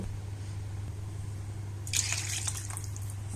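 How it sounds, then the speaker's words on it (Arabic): A cup of water pours into a pot holding chicken liver and orzo, with a sudden splashing gush partway through, set over a steady low kitchen hum. "نحط بقى كوبايه ميه"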